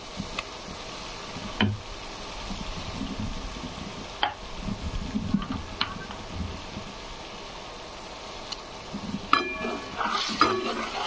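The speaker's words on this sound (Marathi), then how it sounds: "छानपैकी असं मिक्स करून घेऊ" Chicken gravy being mixed and fried in a pan, with a spoon scraping and clinking against the metal at irregular intervals over a low steady sizzle, close by and moderately loud.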